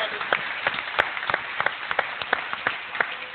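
Scattered hand clapping from a small church congregation, with irregular sharp claps spread across a few seconds, moderately close and without talk.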